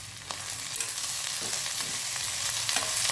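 Onion, garlic, ginger and green chillies fry in a pan for a pea paneer masala, giving a constant loud sizzle broken by occasional stirring scrapes and clicks, with no voices.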